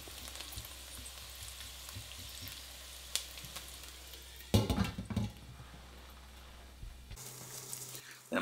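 Onions fry slowly over low heat in a pan, giving a soft, continuous sizzle with occasional clatters and stirring noises, plus a steady low hum in the background.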